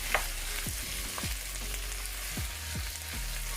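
Garlic paste with all-purpose and green seasoning sautés in a hot pan for Jamaican callaloo, giving a steady close sizzle broken by a few scraping stirs of a spoon, with no voices.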